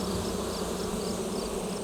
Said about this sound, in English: Back in the echinacea, the bees continue their work.